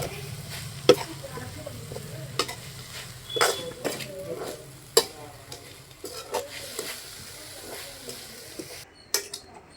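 Mint chutney ingredients and tamarind are stirred and sautéed in a pan, giving a soft, steady sizzle broken by sharp clinks of a spoon scraping the pan at irregular intervals, close by with no talk.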